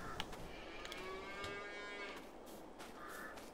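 Cows mooing at a cow barn in a farming video game, several drawn-out lowing calls overlapping over steady background ambience, no one talking.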